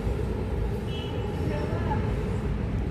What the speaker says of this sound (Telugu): ఇది వచ్చేసింది ట్రైన్